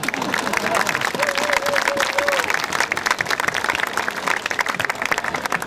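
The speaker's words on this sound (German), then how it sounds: "Jetzt könnt ihr klatschen." Crowd clapping at the opening of the 2015 wine festival in Radebeul Altkötzschenbroda, a loud, sustained outdoor round of many hands with some crowd murmur and a brief tonal sound early on.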